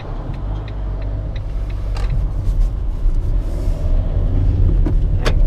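A Fiat Doblo van pulls away and accelerates on the road, its engine a low steady rumble that swells as speed builds, with a few faint mechanical clicks inside the cabin and no one talking.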